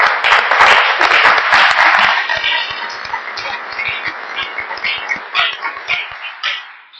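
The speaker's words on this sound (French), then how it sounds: "applaudir notre club de basket." A municipal council audience applauding a local basketball club, a loud burst of clapping that thins out and fades over several seconds in an indoor hall.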